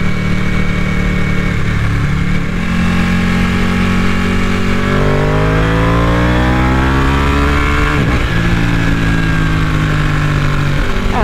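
A Ducati motorcycle engine drones loudly and continuously while being ridden, its pitch climbing as the bike accelerates through the gears, with a brief dip and recovery toward the end.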